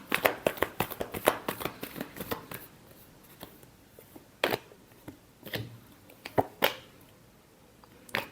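A deck of tarot cards is shuffled up close, a dense flurry of riffling snaps at first, then thinning into scattered separate slaps and taps.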